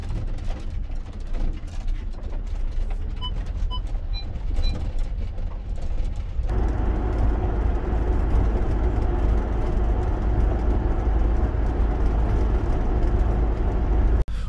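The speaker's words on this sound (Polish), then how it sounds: "Odgłosy dochodzą z okolistego narożnika koło lodówki i są naprawdę denerwujące." Interior fittings of a VW Grand California 600 camper van on a 2.0 TDI 177 Crafter base rattle near the corner by the fridge while driving, a steady loud rumble of road and engine noise that grows heavier partway through, with no talking.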